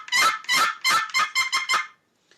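A turkey call played for hunting gives seven sharp, raspy yelps in a quick descending rhythm, loud and close, then silence.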